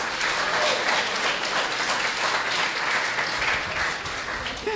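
Sustained applause from a church congregation during a Sunday sermon, steady and fairly loud, filling the space for several seconds with a low rumble near the end.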